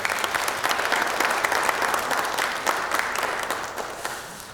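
Sustained applause from a church congregation during an anniversary worship service, steady and fairly loud throughout with no talk over it.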